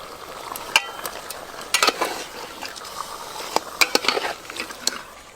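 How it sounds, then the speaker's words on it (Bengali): Mutton pieces frying in a pan with ginger-garlic paste, stirred with a spatula: a steady soft sizzle under sharp scraping clicks and clatters of the utensil against the pan, with no talk. "এবার আমি আদা রসুন বাটা দিয়ে আরেকটু ভালো করে ভাজবো।"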